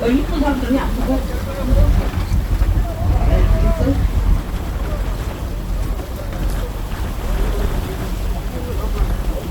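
A fishermen's boat comes alongside a Hongdo sightseeing cruise boat at sea, its engine rumbling with wind buffeting the microphone and water noise, while people talk over it throughout.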